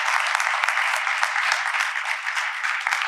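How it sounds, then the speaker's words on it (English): Steady applause from a conference audience at a housing policy forum, dense sustained clapping throughout with no voices over it. "A round of applause for our representatives"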